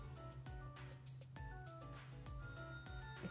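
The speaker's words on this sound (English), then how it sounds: "Excuse the house phone." A house phone rings indoors with repeated bursts of electronic tones in a steady pulsing pattern, fairly faint and continuous throughout.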